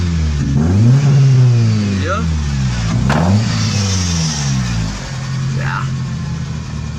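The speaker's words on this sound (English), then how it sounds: "So now the car is revving clean, it's idling properly." An Opel Kadett engine, freshly repaired after a faulty fuel injector, revs up in smooth rising and falling sweeps, then settles into a steady idle, loud and close, with a voice speaking briefly over it.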